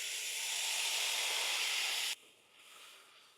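Masala paste slurry hits hot oil with whole spices in a kadhai, giving a loud, steady broadband sizzle for about two seconds that then drops abruptly to a quieter, softer frying hiss.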